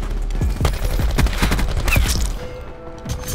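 Rapid video-game gunfire from a first-person shooter match, a quick burst of several sharp shots close up in the first two seconds, then a quieter tail with faint game noise and no talk over it.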